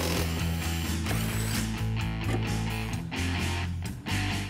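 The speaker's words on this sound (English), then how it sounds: "And now remove the strut nut to remove the strut mount." Rapid ratchet clicking as a strut nut is backed off a 2005-2010 Mustang GT strut during a suspension swap, a dense mechanical rattle running near and loud for the whole stretch with no talk.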